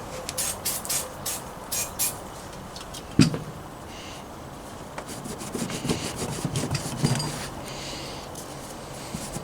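A muffler part from a Poulan 42cc chainsaw being cleaned off by hand during a rebuild, with repeated rough rubbing and scraping strokes, close up and fairly quiet, with a sharper knock partway through.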